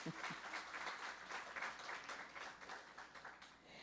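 A congregation claps to welcome first-time visitors, a dense patter of many hands, very faint and distant, rising and falling in soft waves throughout.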